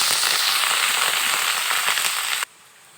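Onion and garlic paste sizzles loudly in hot oil, a dense crackling spatter that runs steadily before cutting off abruptly to near silence.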